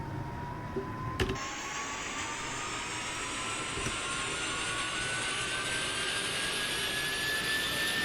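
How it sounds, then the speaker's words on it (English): A helicopter engine in Microsoft Flight Simulator spools up with a steadily rising turbine whine over a constant low rumble, and a sharp click sounds early on. "I gotta raise the volume as we starting up planes and helicopters"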